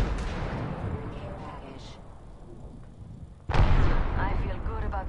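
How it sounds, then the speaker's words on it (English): An arc star grenade thrown and exploding in the Apex Legends video game: steady gunfire and game ambience, then a sudden loud, close burst about two-thirds through that rolls on into a sustained rumble. "Throwing an arc star."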